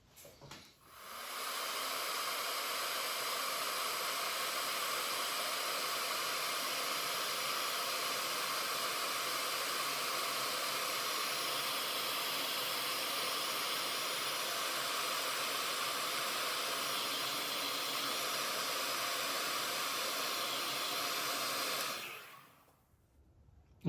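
A hair dryer blows over the slip on a thrown clay teapot with a bamboo handle, a loud steady rushing hiss that runs unbroken for about twenty seconds before cutting off, close and without speech.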